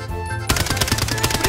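Rapid automatic gunfire in a video game, a loud, dense, close burst of repeated shots that cuts in abruptly after a brief stretch of tonal background sound.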